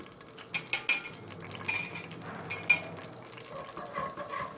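Flour being stirred into hot oil in a pan for Egyptian mufattaka, heard as a handful of sharp metallic utensil clinks and scrapes against the pan early on over a soft frying hiss, with no talk.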